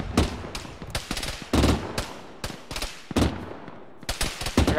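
Machine gun fire in a military video game comes in several sharp bursts of rapid shots, loud and close, with short pauses between bursts.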